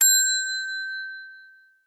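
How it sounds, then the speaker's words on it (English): A single bright bell ding rings out clearly and alone, its pure metallic tone ringing on and slowly fading away over nearly two seconds. "let's get the bell"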